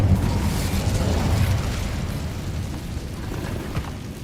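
In the video game Hogwarts Legacy, the Incendio fire spell is cast, giving a loud, dense burst of roaring, crackling fire that swells and then settles into a sustained rumble for several seconds, with no voices.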